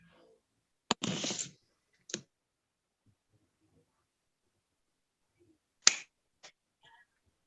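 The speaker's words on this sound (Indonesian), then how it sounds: "Bapak ingin memberikan tepuk salut" A class of pupils gives a clapping cheer, a few sharp claps and snaps in short bursts separated by long quiet gaps, close and fairly faint.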